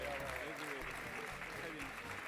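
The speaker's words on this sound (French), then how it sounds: "vous applaudissez l'ensemble des lauréats ce soir" An audience applauds award winners and founders at the Laval Virtual Awards ceremony, quiet, steady clapping heard faintly beneath talking voices and a low background hum.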